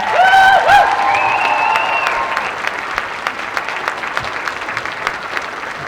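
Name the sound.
audience applause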